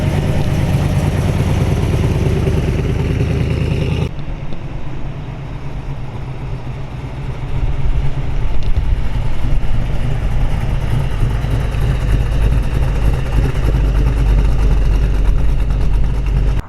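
1934 Ford 5W all-steel coupe hot rod with a 383 stroker V8 starts and settles into a loud, lumpy idle close by, the rough throb steady and then rising as it revs.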